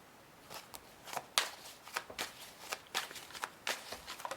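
Tarot cards being shuffled by hand, a run of soft, crisp riffling bursts and slaps at an irregular pace, fairly quiet and close with no talking.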